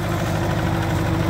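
A small orange tractor engine runs at a steady idle, a constant low rumble with slight vibration, close and continuous with no pauses.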